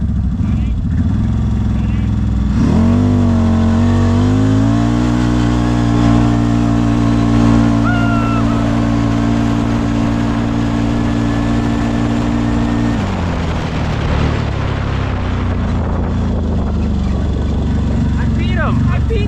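CFMOTO side-by-side off-road vehicles race, their engines revving loudly and holding a steady high drone before easing off near the end, heard close and continuous.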